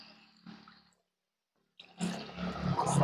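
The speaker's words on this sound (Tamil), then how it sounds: "கொஞ்சம் தண்ணி சேர்த்துக்கலாங்க." Water pours steadily into a pot of duck curry after a quiet pause, a rushing, splashing flow that grows louder toward the end, with a brief clink earlier.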